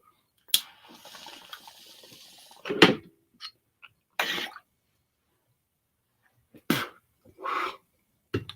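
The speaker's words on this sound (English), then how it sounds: "I gotta clear that cough out." A few harsh coughs and throat-clearing bursts, close and separated by silent pauses, with a faint hiss under the first cough.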